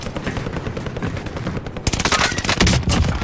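Rapid automatic gunfire from a UGM-8 rifle in a video game, dense crackling bursts throughout, growing louder and sharper midway with heavier volleys near the end.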